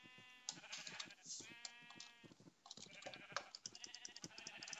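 Sheep in a modded Minecraft game bleating over and over, a dense chorus of nasal, wavering baas that overlap and trail off across several seconds, fairly quiet.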